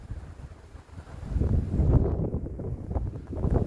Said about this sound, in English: It's windy for sure.